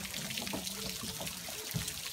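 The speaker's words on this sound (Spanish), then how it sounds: "¿Está botando agua?" Water spills steadily from a tank in a continuous broadband trickle and splash, fairly close and unbroken throughout, with no one talking.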